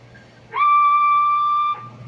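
A single steady whistle, loud and close, holding one pitch for about a second before cutting off.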